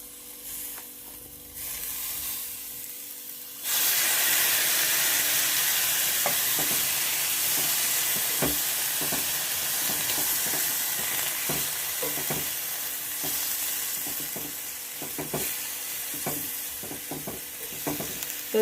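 Pieces of cut nutmeg dropped into hot oil with chillies for a nutmeg pickle: a quiet lead-in, then a sudden loud, steady sizzle with scattered stirring clicks and scrapes throughout.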